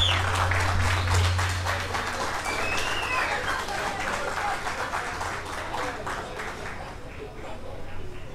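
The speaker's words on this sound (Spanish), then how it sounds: "Un aplauso." An audience at a theatre performance breaks into applause, a thick wash of clapping that holds steady throughout, with a brief low hum at the start.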